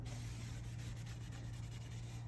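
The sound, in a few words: wiping down a kitchen worktop surface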